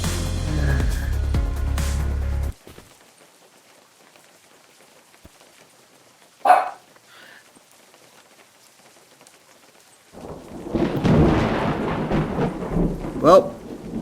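A thunderstorm in the video game Unturned: a burst of rain noise cuts off, a lone thunder crack sounds mid-clip, then heavy rain and rumbling thunder return loudly near the end.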